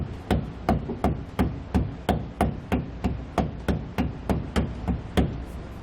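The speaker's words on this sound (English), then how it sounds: "You may need to take a hammer to help tap it forward all the way." A steady series of about fourteen sharp hammer taps, evenly spaced roughly every half second, tapping a SumoSprings helper spring into place on a vehicle, close and fairly loud with no talking.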